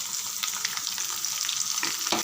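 Onions, green chillies and curry leaves sizzle steadily in hot oil for rava upma, a continuous close frying hiss with light stirring clicks and no voices.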